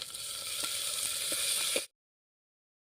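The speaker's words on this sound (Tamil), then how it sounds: "இப்போ வெங்காயம் நல்லா வதக்கிக்கலாம் நல்லா பொன்னிறமாக வர்ற வரைக்கும் வதக்கட்டும்" Chopped onions sautéing in a pan for a Tamil sooda fish curry give a steady bright sizzle with occasional stirring clicks, loud and close for nearly two seconds before cutting to silence, then sizzling briefly again at the end.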